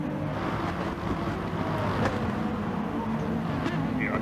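A Toyota Supra race car in Gran Turismo Sport drones with a steady, broadband engine roar that holds constant and loud throughout, with no clear gear changes.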